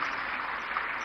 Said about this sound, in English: May I ask you to give a round of applause to our committee for a good job done.